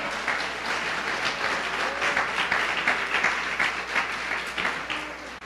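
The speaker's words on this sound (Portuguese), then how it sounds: "Dê uma salva de palmas ao Senhor." A church congregation applauds during a sermon, with steady, dense clapping from many hands filling the room for several seconds.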